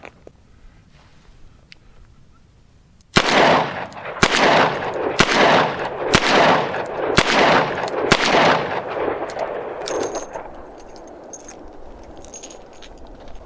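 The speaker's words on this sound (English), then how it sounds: "let's shoot 6 rounds of Hornady 357 Magnum ammo at the bottom target. Double action." Ruger Security Six revolver firing six Hornady .357 Magnum rounds double action outdoors at a target: six loud, sharp, evenly spaced shots about a second apart, each with a ringing decay, then quiet.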